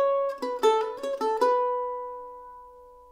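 A mandolin plays two bars of a Nordic polska with double stops and a hammer-on, several bright plucked notes in a lively rhythm ending on a ringing chord that fades out, with no voice over it.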